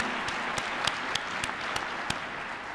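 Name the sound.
audience applause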